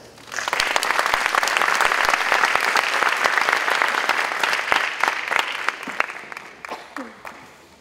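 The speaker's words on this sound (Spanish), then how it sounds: "Recibámoslo con un aplauso." Audience at a regional dance gathering bursts into sustained applause that swells quickly, holds dense and loud, then thins out toward the end.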